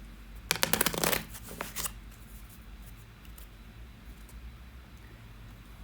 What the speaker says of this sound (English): Just do a quick shuffle of this as well.